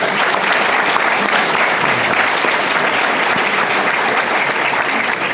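An audience breaks into steady, dense applause during a live panel discussion on Chicago police, public schools, finances and the mayor, the clapping loud and continuous from start to finish with no talk over it.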